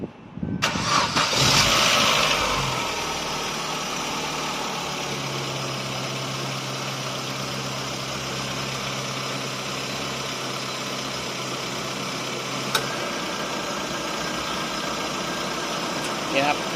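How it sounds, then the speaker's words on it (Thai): A Chevrolet Aveo engine cranks and starts with a loud surge, then settles into a steady, even idle that runs on, with a brief click partway through. "เราก็จะไปสตาร์ทเครื่องยนต์นะครับ"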